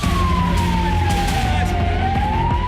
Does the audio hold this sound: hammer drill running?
no